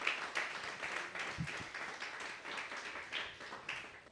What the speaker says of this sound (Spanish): Brían de fuertes palmas al Rey de Reyes y al Señor de Señores.